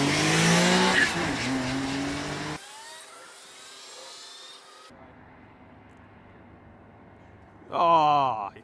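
An Autozam AZ1 drag races a Mini at Santa Pod, with loud engine revving, squealing tyres and skidding, abrupt cuts between takes, and a final close revving burst.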